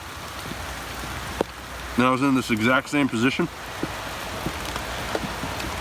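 Steady rain falling outdoors on a surface near a small lean-to shelter, a continuous soft hiss with scattered drop ticks, while someone talks over it in the middle.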